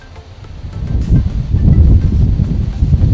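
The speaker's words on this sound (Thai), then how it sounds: "ลมแรงนะครับวันนี้" Strong wind buffets the microphone outdoors at a farm site where compost is being mixed, a loud low gusty roar that builds and stays rough throughout.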